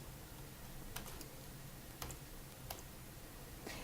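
A few faint, spaced clicks of a computer keyboard as a sudo command is typed on a Linux machine, isolated key taps over quiet room hiss with no talking.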